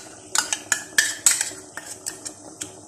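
A spoon stirs semolina into melting cream in a metal pot for halwa, a quick run of close clinks and scrapes against the pot sides, loudest early and then tapering off.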